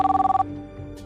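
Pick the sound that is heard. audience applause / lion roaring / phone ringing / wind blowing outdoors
phone ringing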